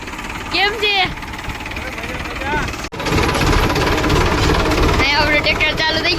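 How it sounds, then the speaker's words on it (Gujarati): A tractor engine runs at a farm orchard with a steady, loud, low rumbling drone that grows heavier partway through, while people talk over it at the start and end. "અહીંયા આપણે ટ્રેક્ટર ચાલુ થઈ ગયું છે."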